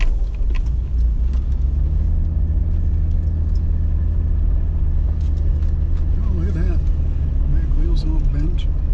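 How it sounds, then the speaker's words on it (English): Low, steady rumble of cars running just beyond a dirt bank near Quartzsite, Arizona, continuous throughout, with someone talking over it. "There's a couple of cars just on the other side of this dirt bank."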